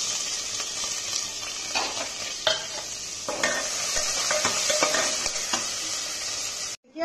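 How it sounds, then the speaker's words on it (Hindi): Chopped onion and garlic hitting hot oil already seasoned with cumin and bay leaf for an aloo gobhi curry, giving a loud, steady close sizzle broken by scraping stirs, with no talking. "इसके बाद जो हम लोग प्याज और लहसुन काटे हुए हैं अब इसको डालेंगे।"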